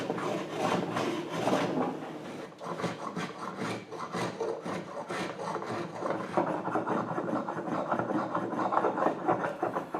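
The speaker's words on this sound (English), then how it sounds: "good old sandpaper and a block of wood, and this works really good to getting all those bandsaw marks out" Sandpaper wrapped around a wooden block rasps in quick back-and-forth strokes across a wooden settee part, smoothing out bandsaw marks. The rubbing is close and steady and continues without pause.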